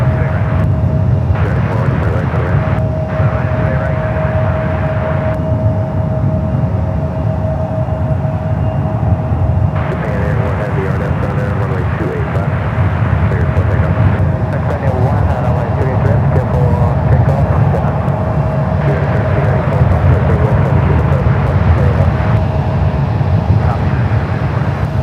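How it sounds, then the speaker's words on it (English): A Japan Airlines Boeing 777-300ER rolls toward runway 28 left at San Francisco, its engines giving a steady, loud roar with a constant high whine, heard close and continuous as a person talks over it. "the 777-300ER now rolling down to 28 left"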